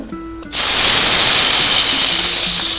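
Hot cumin tempering (tadka) poured into a potato bhujia dish bursts into a loud, sudden sizzle after a brief quiet moment, then keeps hissing steadily and close by until the end.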